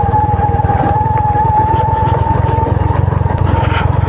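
Motorcycle descending a loose, stony hill road, a steady pulsing engine drone held at low revs with a faint whine above it, close and continuous with no speech.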